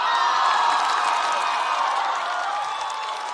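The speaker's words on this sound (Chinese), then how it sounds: "听懂，掌声。" A stand-up comedy competition audience in a studio claps and cheers loudly, a dense sustained roar of applause and shouting that eases slightly toward the end.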